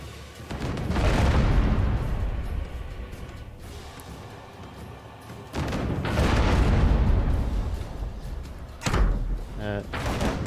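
Ship cannons booming in the naval combat game Abandon Ship: two heavy, rumbling blasts a few seconds apart, each with a long low roll, then a sharper burst near the end, loud and close, with talk mixed in.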